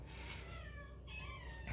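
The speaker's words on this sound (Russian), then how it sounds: "У меня тут коты пособирались, думают, что здесь что-то вкусное." Domestic cats meowing close by in a room during a carpet python feeding, a repeated mewing cry with harmonic tone, clear and moderately loud with no talking.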